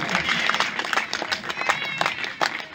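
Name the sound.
audience applause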